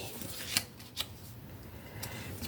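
Paper being folded and creased for a handmade ring-bound mini album, heard as a few sharp, crisp crackles and taps spaced apart over a quiet room background.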